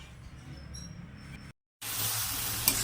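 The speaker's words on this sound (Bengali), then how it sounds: "আবারও ভালো মতো নেড়ে চেড়ে নেব আমি" Dhekie greens seasoned with salt and turmeric being stirred in a hot pan, a soft steady sizzle with a brief break before the frying hiss returns louder.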